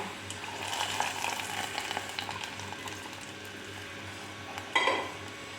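A hot curry-leaf tempering is poured into cooked pumpkin curry, giving soft frying and bubbling with light clinks of utensils and a brief louder sizzle burst near the end, fairly quiet and close.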